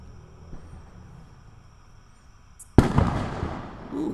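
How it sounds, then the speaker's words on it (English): Big fireworks go off outside, heard from indoors over a low steady background hum, one sudden loud boom followed by crackling rumble that keeps rolling on. "somebody got big fireworks."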